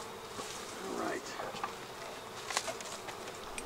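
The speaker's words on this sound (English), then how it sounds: "That hornet. It's going after bees." Bees buzzing around a beehive while a large hornet hunts among them, a faint, steady insect drone with brief louder buzzes close by.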